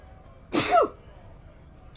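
A single close, loud human sneeze bursts out sharply and then fades into near silence.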